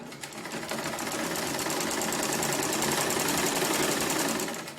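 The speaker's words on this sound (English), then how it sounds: "sewing on the sewing machine" A sewing machine runs continuously at high speed, a loud rapid mechanical rattle with steady rhythm, no voices.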